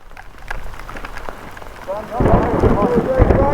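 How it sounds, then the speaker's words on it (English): Steady rain patters, then a deep rumble of thunder swells and lingers over the downpour while a person speaks. "Oh, that was lightning too, was it?"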